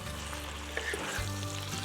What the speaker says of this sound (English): Alright, so now we're going to add back the beef and stir fry.